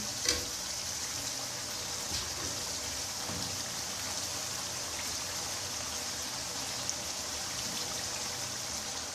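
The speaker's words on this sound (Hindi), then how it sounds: "मसाला जो तैयार हो चुका है, अब इसमें पानी शामिल करेंगे।" Water pours steadily into cooked masala in a pot for chicken pulao, a continuous hiss and splash with a brief sizzle near the start, heard close with no talking.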